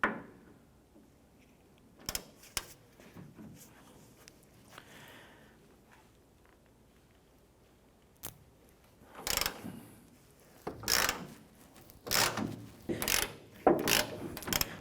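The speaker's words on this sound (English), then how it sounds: "We're going to remove the 2 Torx screws holding this pivot on here." A ratchet with a T50 Torx bit loosens screws on a Ford Ranger tailgate hinge pivot, sounding as quiet at first, then sharp clicking bursts of ratchet strokes growing louder and more frequent toward the end.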